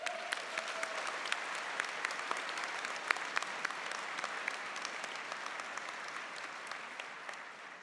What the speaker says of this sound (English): so let's give them a special round of applause.